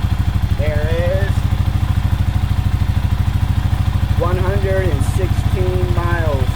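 A Kawasaki KLR650 motorcycle engine running to warm up the oil: a close, steady single-cylinder idle with a fast, even thumping pulse, and a few brief tonal chirps over it.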